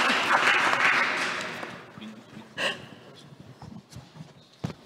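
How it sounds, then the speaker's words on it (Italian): At a public presentation on mobility and road safety, an audience gives encouraging applause that starts fairly loud and dense, then thins out and dies away into scattered claps and small room noises. "Un applauso di incoraggiamento"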